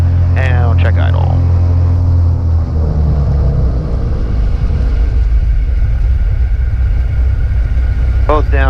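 Twin engines of a Cessna 310 idle on the ground with a steady, deep, droning rumble throughout, while a voice talks briefly at the start and again at the end.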